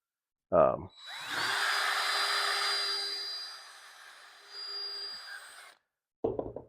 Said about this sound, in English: And then I'll drill one right in the middle here.